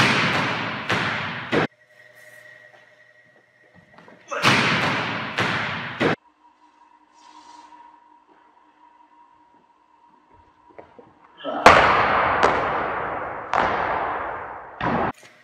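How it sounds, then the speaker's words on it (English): A volleyball jump serve strikes the ball. Sharp, loud slaps and thuds land in clusters, with quieter gaps between the groups of impacts. "So this is what my jump serve looks like."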